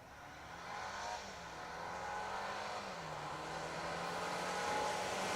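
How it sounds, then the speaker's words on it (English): A distant rally car engine revs hard with wheelspin off the start line at a Welsh Rally Championship stage, a rising, wavering whine as it pulls away, faint and steady without talk. "Wheel spin off the start line."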